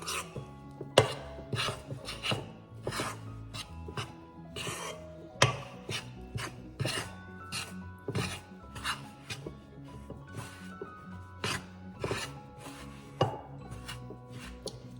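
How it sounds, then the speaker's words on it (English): A spoon scrapes and thuds rhythmically in a bowl while dough for Southern-style chicken dumplings is stirred, a quick series of close, regular knocks and rubs with no talk. "Just gonna give it a stir until it starts forming a ball of dough."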